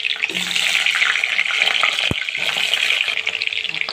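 Cut potato pieces sizzle in hot oil in a wok, a loud, steady hiss with crackling throughout and no voices.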